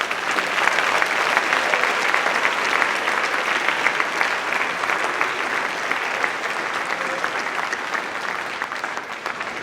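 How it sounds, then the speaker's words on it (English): A large audience claps loudly and continuously for Hall of Fame 2016 alumni inductees, a thick, even wash of applause sustained throughout with no speech over it. "Please give them a final round of applause."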